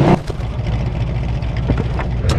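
Car engine in the game Mafia II, a steady low rumble running throughout at moderate level, starting from the first moment with a brief louder burst, alone with no talk.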